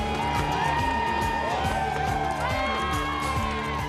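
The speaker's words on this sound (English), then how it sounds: "The crowds continue to flood into the city centre with 2 hours still to go" A large crowd gathers in Dublin city centre on St Patrick's Day, a continuous outdoor hubbub with distant cheering and whoops over a steady background din.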